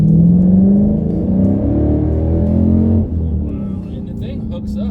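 A 2016 Dodge Challenger R/T Scat Pack with a six-speed manual pulls hard under throttle, its loud, close engine note climbing steadily in pitch over the first three seconds, then dipping to a lower drone as it settles.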